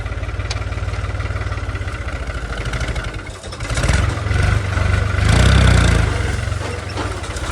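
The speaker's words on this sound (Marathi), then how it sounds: "आपण बे रिवर्स मारून ट्रॅक्टर ते वळून घेऊ" A diesel tractor engine chugs steadily nearby while reversing to turn, then labors and revs louder midway before easing back to a rhythmic idle.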